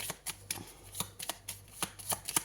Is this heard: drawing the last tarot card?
yes